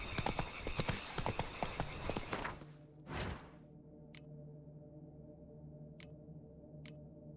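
Horse hooves clattering in a steady gallop in The Witcher 3, loud and busy for the first few seconds, then a short burst and quieter stretch with a few sharp ticks.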